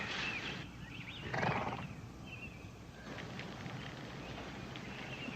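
A team of horses clops along steadily while one neighs loudly in the middle, with a soft whinny afterward over continuous outdoor background noise.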